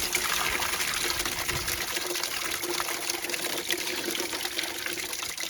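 Water gushes steadily from a hose while the coolant system of a 1986 Ford F-150 is flushed, a continuous close splashing flow that holds unchanged throughout with no talk.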